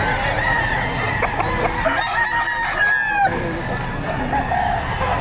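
Several chickens cluck and a rooster crows loudly nearby, overlapping in a busy chorus at a livestock auction market in Padre Garcia, Batangas, with faint voices beneath.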